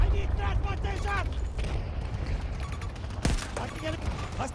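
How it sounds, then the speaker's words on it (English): Gunfire in the Battlefield 6 battle royale video game, rapid bursts and scattered shots, with loud explosive cracks and a sharp blast near the end. A player talks over the shooting throughout. "128 players is just like there is just bullets everywhere"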